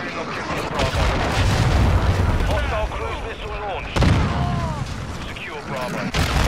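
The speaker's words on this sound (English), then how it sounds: "Hostile cruise missile launched." Cruise missile strikes in Modern Warfare II set off heavy booming blasts, one near the start and another around the middle, with rumbling debris and radio-style voice chatter layered over the din.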